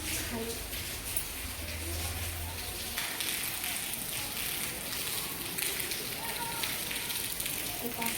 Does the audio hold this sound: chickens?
no